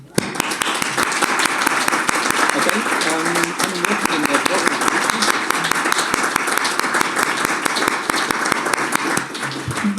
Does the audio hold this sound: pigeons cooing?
no